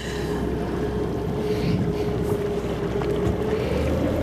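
An electric speedboat hums steadily across the water, a faint motor whine under a wash of wind and splashing, with no voices.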